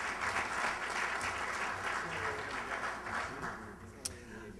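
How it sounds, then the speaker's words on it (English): An audience applauds a panel at a business forecast conference, with dense, steady clapping all the way through that thins slightly toward the end and has a brief sharp knock near the close. "let's give our panel a round of applause in advance"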